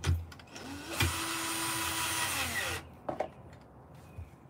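A power tool drives screws during installation of pedals and a lowering kit on an e-bike, giving a single steady whine of about two seconds that rises and falls at the ends, with a few light clicks and knocks before and after.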